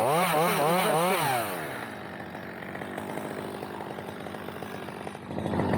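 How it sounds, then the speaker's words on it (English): A chainsaw revs loudly in wavering bursts while cutting a eucalyptus tree branch, then settles into a steady buzzing idle and picks up again at the end. "can I talk while the chainsaw is running?"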